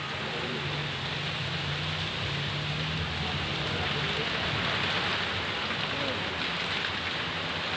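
Light drizzle falls steadily over farmland in Badnapur, a continuous soft hiss of rain on surfaces with faint voices in the background.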